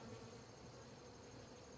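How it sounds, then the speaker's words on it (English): A steady, soft insect drone fills the whole stretch, with honey bees buzzing around an open hive during an inspection, no speech over it. "I see some piles of bees"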